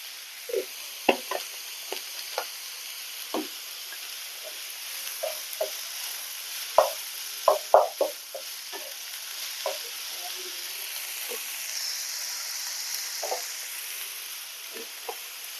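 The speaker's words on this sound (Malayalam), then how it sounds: "നല്ല രീതിയിൽ വഴറ്റി വരണം" Chicken filling for a Malabar chicken cake sautéing in a pan with salt and turmeric, a steady close sizzle broken by sharp, irregular clinks of a spoon stirring against the pan.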